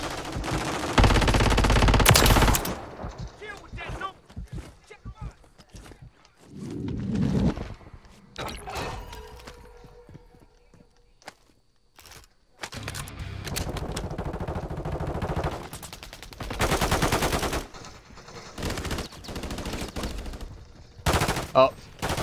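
Gunfire in bursts from Call of Duty: Warzone, with loud rapid volleys at the start and again later, quieter mechanical handling sounds between them, and brief talk.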